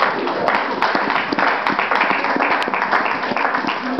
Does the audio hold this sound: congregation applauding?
yes